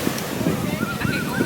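Ocean waves washing onto a beach, a steady loud surf roar with wind buffeting the microphone.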